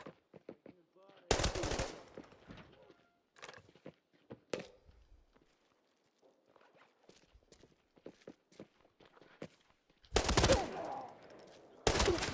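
Automatic gunfire in a video game shooter match comes in two short, loud bursts, with scattered footsteps and clicks between them and a voice talking quietly.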